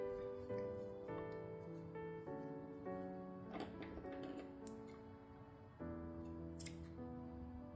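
Scissors snip the ends of crochet yarn for a keychain, a few faint sharp clicks over quiet background music.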